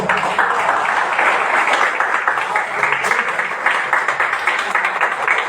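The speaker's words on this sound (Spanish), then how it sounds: "quisiera un fuerte aplauso, por favor." Dense crowd applause fills a May Day protest march, a steady wash of many hands clapping throughout with scattered voices mixed in.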